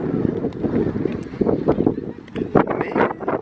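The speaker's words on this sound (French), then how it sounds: "le fait qu'il y ait beaucoup de vent" Strong wind on the beach at Shoeburyness buffets the microphone in loud, uneven gusts that rumble throughout.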